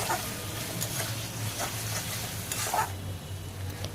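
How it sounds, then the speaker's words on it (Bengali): Stingray fish frying with cumin paste as it is stirred in the pan, a steady close sizzle with soft scraping strokes of the spoon running throughout. "আবারও একটু নেড়ে চেড়ে নিচ্ছি"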